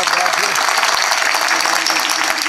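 Audience at a Marathi kirtan clapping loudly together, a dense, continuous burst of applause filling the hall from start to finish.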